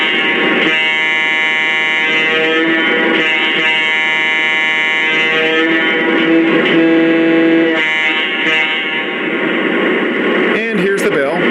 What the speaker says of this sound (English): first up here is the horn, and I really like the horn on this engine